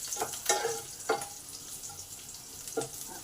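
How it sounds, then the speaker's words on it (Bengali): Chopped garlic and two green chillies frying in a pan while an eggplant and hilish fish curry is cooked, a soft sizzle broken by a few sharp stirring scrapes and clatters spread through the clip. "1 মিনিট ভাজবো এই রসুনগুলোকে"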